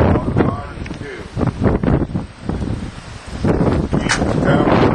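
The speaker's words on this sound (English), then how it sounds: "it's very windy here today" Strong wind buffets the microphone in loud, uneven gusts beside a travel trailer, rumbling and roaring throughout with brief lulls.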